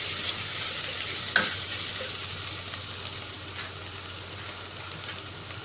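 Food sizzles steadily while being stirred and tossed in a pan, with a couple of brief scraping clinks early on, a soft continuous frying hiss underneath and no talking.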